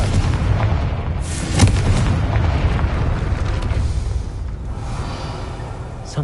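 Confringo blasting spell in Hogwarts Legacy, a dense rumbling explosion with a sharp burst near the start and a sustained boom that fades slowly.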